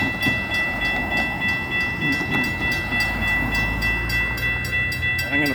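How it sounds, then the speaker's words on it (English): A Florida East Coast Railway night train rolls past a crossing in Jacksonville, Florida, with steady close rumble, rhythmic wheel clatter and a sustained high crossing-bell or horn tone over the whole stretch. "This is a night train. Florida East Coast Railway, Jacksonville, Florida."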